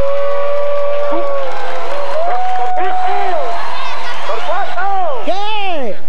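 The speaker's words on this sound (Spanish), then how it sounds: "el aplauso grande para ustedes" A children's audience at a kids' show claps loudly while many young voices shout and cheer in rising, excited calls that grow more intense toward the end.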